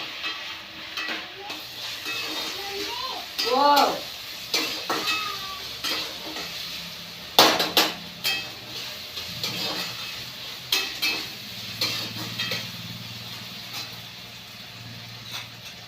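Tomatoes dropped into a hot frying pan for a sprouted moth bean curry give a soft sizzle, with spoon scrapes and clanks of stirring against the pan and a brief squeaky sound partway through.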